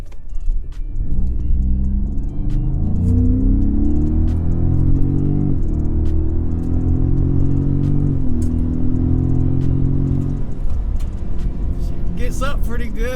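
A 2018 Ford Raptor pickup with a 10-speed transmission accelerates hard in manual mode. The loud, close engine drone climbs steadily in pitch, drops at each gear change, and then climbs again over several seconds.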